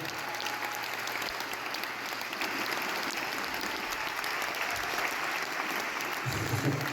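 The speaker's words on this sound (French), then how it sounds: "On l'applaudit très très fort" Concert audience applause during the introduction of the musicians in Besançon, a sustained, even roar of clapping from a large crowd, with a low rumble and a brief voice near the end.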